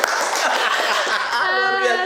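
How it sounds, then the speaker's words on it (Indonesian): Dense studio-audience applause for a first-place martial arts champion on an Indonesian talk show, a steady wash of clapping that continues throughout, with voices and a tonal sound rising through it toward the end. "Tepuk tangan lagi."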